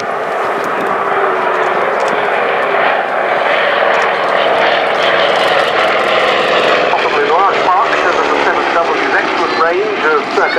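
A loud interwar propeller airplane engine drones steadily at an airshow, a continuous heavy roar with a slight pitch shift near the end.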